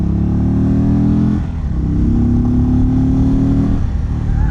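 A 2022 Indian Chief's big V-twin engine revs hard and loud, with a rumbling burble that rises twice, briefly dipping between the surges, close to the bike.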